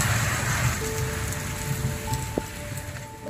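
Steady rain falling in Dumaguete City during the first rain after a long summer, a dense continuous wash of drops with a low faint hum underneath and no talking.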